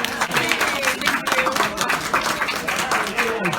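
Audience applause and clapping fill the room right after a birthday song for a man turning 90, a steady burst of crowd clapping with background voices mixed in.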